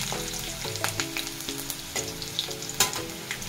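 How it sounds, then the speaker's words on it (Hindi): Garlic and small green chilies sizzle and fry in hot oil in a pan, a steady close crackle with occasional stirring clinks and scrapes. "काटिक रखिथिबा छोट छोट कंचा लंका दे दबा। एटा भलसे भाजि करबा परे"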